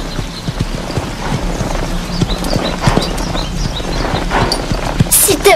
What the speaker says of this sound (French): Lisa, tu ne dois pas laisser ton cheval faire ça.